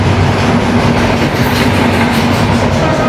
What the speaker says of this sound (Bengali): এই হচ্ছে বাংলাদেশের ট্রেনের স্পেশালিটি